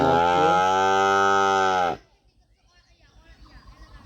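A cow lets out one long, loud moo lasting about two seconds, then quiet with faint background noise and soft distant sounds.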